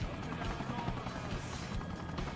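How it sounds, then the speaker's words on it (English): Helicopter in the Sonic Generations video game, a steady whirring rotor drone with broad noise that holds at an even, fairly close level for the whole stretch. "So you grab onto the helicopter here, and then you drop."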